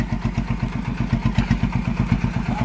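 A homemade Thai e-taen farm vehicle with a yellow finish and a single-cylinder 115 engine, chugging steadily at idle with a loud, close, rhythmic low thump and some mechanical clatter.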